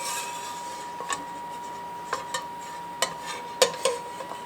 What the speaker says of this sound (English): But keep stirring for a minute more.